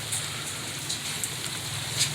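Light rain falls as a soft, even hiss with faint scattered drop ticks, quiet and distant, with no one speaking.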